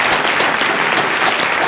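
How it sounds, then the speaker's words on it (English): A conference audience gives a panel a steady round of applause, a dense, even wash of many hands clapping throughout the short stretch. "So can I ask the audience to give this panel a great round of applause?"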